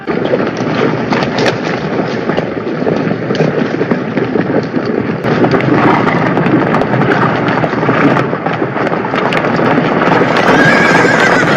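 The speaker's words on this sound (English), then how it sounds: "No, by damn its horses! The cavalry!" A loud, dense rumble of many horses galloping with pounding hooves, neighing and whinnying over the din, continuous throughout.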